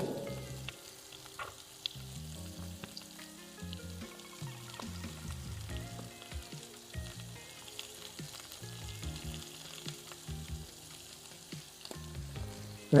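Spices frying in a pan with a hill goat mutton curry base and green chillies, a steady sizzle under continuous background music throughout.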